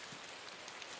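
Rain falls in the video game INSIDE, a brief, even hiss of drops with no voices over it.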